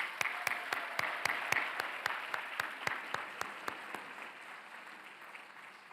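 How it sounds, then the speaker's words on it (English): Audience at a graduation ceremony applauding in a hall, a burst of sharp, evenly spaced claps that fade into a softer wash of clapping toward the end. "Let's give them another round of applause."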